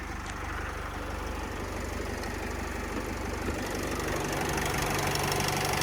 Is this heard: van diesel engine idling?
yes